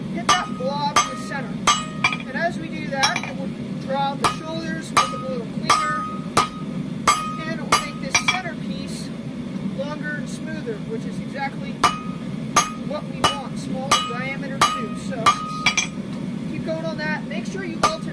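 Blacksmith hammering metal on an anvil in a school forge, sharp ringing strikes repeated in an irregular rhythm of single blows and quick pairs, close and clear over a low background hum, with a faint voice at times.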